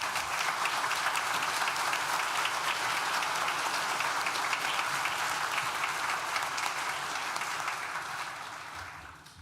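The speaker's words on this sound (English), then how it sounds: "So please join me now in thanking them with a well-deserved round of applause." A graduation ceremony audience gives sustained applause for university staff, a dense, even wash of clapping from a large hall that holds steady for several seconds before fading out at the end.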